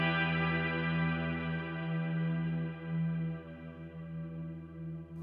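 A sustained guitar chord through a Mad Professor Kosmos Reverb pedal rings out with a wide, washy hall reverb, its tone hanging evenly and slowly fading.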